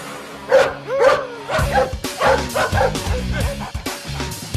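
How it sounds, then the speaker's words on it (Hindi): A dog shut inside a car barks and yips repeatedly in quick, uneven bursts, close and loud, with some whimpering sounds between the barks. "अबे कुत्ते, गाड़ी के अंदर बैठ के भौंक रहा है,"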